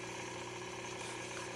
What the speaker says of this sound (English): This pull start is exactly like I wanted it.